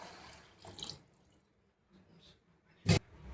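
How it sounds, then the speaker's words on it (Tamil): Water is poured into a pot of rice for chana biryani, with a soft splash that comes and goes and one sharp clink of a vessel near the end, all close and fairly quiet. "அதுக்கு தகுந்த தண்ணி ஊற்றிக்கலாங்க."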